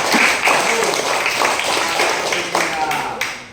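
A classroom of students applauds a classmate named Kaila, a steady burst of close, lively clapping that fills the room and tapers off near the end.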